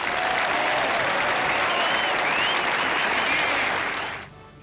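A golf gallery in Spain applauds and cheers Miguel Angel Jimenez at the 1999 WGC-American Express Championship, a sustained, loud wash of clapping from a large crowd that fades out abruptly near the end.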